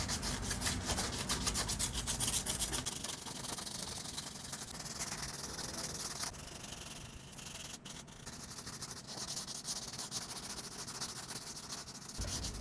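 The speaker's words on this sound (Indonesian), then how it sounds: "langsung saja kita masuk ke pengamplasan tahap kedua, yaitu saya menggunakan amplas nomor 800" Steady abrasive rubbing of 800-grit sandpaper over a car's painted body panel during second-stage sanding, a continuous close scratchy hiss with brief changes in stroke, no talking.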